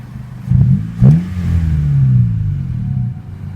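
A Honda car engine with a newly swapped Y8 exhaust manifold revs up and settles into a steady idle, with a couple of short throttle blips early on and no voices.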